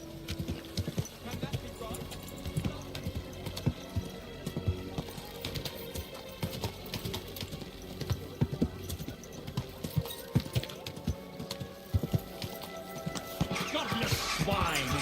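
Horse hooves clip-clop at a steady walking rhythm in the medieval video game Kingdom Come Deliverance 2, with occasional snorts and clanks of gear, and a voice speaks over them.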